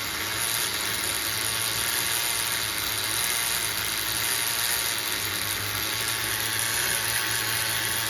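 HPI MT2 RC truck with its small nitro engine running steadily while being tuned, a continuous buzzing drone held for several seconds, near and fairly loud.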